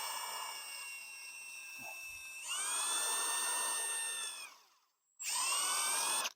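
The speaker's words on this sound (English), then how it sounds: "start drilling from the inside out so it pushes out and all the plastic comes out of here" A power drill bores through a drone's plastic shell from the inside out, whining steadily at close range with a rising pitch as it bites, stopping briefly, then starting again alone.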